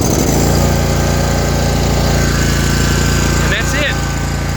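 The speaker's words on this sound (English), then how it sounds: "it will also start your mower by bypassing the solenoid." A zero turn mower engine runs loud and close after being started with the solenoid bypassed, a continuous rough mechanical drone that settles slightly toward the end.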